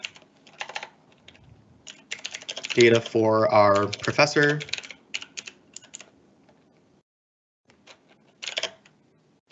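Typing on a computer keyboard while taking notes on a computer, heard as quick, light key clicks in short bursts at the start and end, with a person talking in between.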